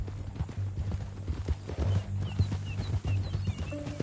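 Horse hooves clip-clop in a video game in a steady walking rhythm on hard ground, with a few soft thuds and faint background ambience.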